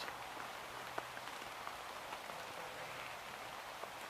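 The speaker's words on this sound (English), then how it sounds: "it's just been a bit rainy. It's been a bit wet" Steady rain pattering through a forest, a continuous even hiss of drops on leaves and ground with occasional louder nearby drips, fairly quiet and with no voices.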